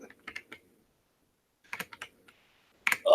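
Typing on a computer keyboard, close clicky keystrokes in small irregular clusters separated by short pauses, with no talking.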